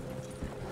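Horse hooves clip-clopping in the Red Dead Redemption 2 video game, a steady, dense patter of several horses' footfalls running continuously through the short moment at moderate loudness.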